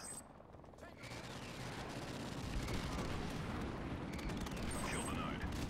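Airstrike explosions in Modern Warfare Remastered: a faint, continuous rumble of distant blasts and crackling fire that builds slightly and stays low in the background, without clear separate booms.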